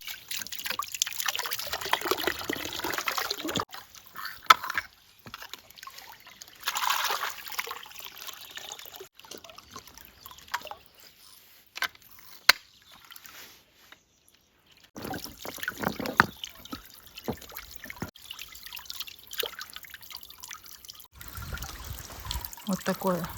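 A small garden pond fountain with clogged spray holes trickles and splashes steadily nearby, stopping for a stretch and then returning. Someone talks intermittently over the water.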